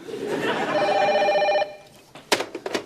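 A telephone bell rings in sustained bursts for about a second and a half, loud and close, then stops, followed by faint clicks and a couple of sharp knocks as a receiver is handled, in a comedy series setting.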